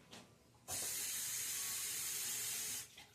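Tap water runs hard into a cooking pot for about two seconds to rinse it out while making red beans and rice, a steady close hiss and splash that starts and stops abruptly.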